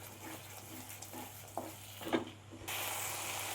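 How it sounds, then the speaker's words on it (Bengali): Tomato cooking down with ground spices in oil for a rahu fish curry, a soft steady sizzle with a few light stirring scrapes, faint and close, no voices. "ভালো করে আমি মশলার সাথে টমেটোটা কষিয়ে নেব যতক্ষণ না তেল ছাড়ছে।"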